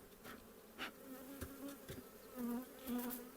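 Honeybees buzz softly around the microphone, clustering on a released queen, several insects droning and passing close with brief louder swells in a quiet setting.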